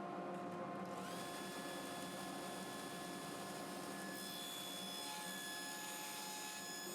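A table saw cuts a tenon in wood, a steady loud whine of the spinning blade that shifts in pitch partway through as the blade bites into the workpiece, continuous throughout.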